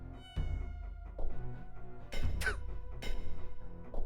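Cats meow in the video game Ultima VII: Serpent Isle, a few clear synthesized meows and yowls at moderate loudness set against a soft game tone, mixed with brief thumps.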